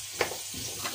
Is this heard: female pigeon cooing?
no